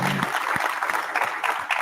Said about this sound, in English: Yeah, applause for that, for sure.